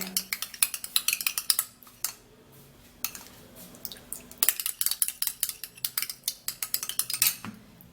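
Egg whites are stirred in a bowl, a utensil clinking and scraping in quick rhythmic bursts with a short pause, close and fairly quiet.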